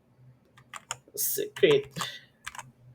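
Computer keyboard keys are typed in short bursts, with someone talking over and between the clicks at close range.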